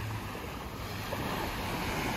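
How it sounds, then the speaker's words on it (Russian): Ocean surf washing up onto a beach at sunset in Mauritius, a steady broadband rush of waves with some wind noise, alone and fairly loud throughout. "Ну, Валюша тут волнами сгоняет, но оп, и смывается."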